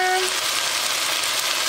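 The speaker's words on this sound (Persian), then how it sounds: "دوباره اینا رو تفت میدم." Steady broadband sizzling of whole spices, black cumin, cinnamon stick and black pepper, frying in a hot pan, continuous and close, with a faint tonal ring fading early on.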